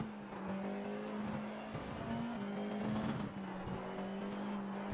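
Formula 4 race car engines at Mugello droning at high revs, with a steady buzzing tone that dips and climbs again as gears change, heard from onboard at moderate loudness.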